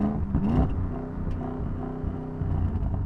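A sports car engine revs close by, holding a steady droning, harmonic note with a brief surge near the start, alone without talk.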